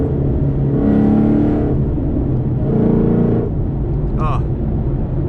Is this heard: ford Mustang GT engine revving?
yes